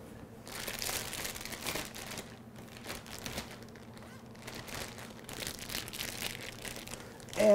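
Soft plastic crinkling and rustling, irregular and close, as a zipper bag holding trimmed chicken breasts is handled and squeezed, fairly quiet throughout.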